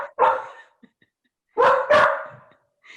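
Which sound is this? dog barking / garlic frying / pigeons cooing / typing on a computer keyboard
dog barking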